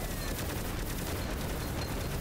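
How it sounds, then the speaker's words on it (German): Rapid rocket-launcher fire blasting enemies in the video game Greedland, a dense, continuous barrage of overlapping explosive booms with no pause across the whole stretch. "der Raketenwerfer böllert einfach alles weg"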